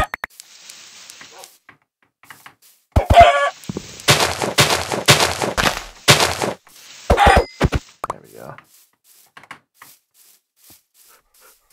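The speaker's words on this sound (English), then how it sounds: "I'm surprised those two chickens are there with all these wolves around." Minecraft chickens cluck repeatedly over several seconds, with sharp knocking game sounds mixed in; the middle stretch is loud and busy, and faint sounds trail off afterward.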